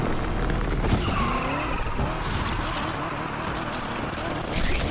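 A car drifts in Need for Speed Unbound, tires squealing in long sliding sweeps over a steady engine roar, loud and close, sustained for a few seconds.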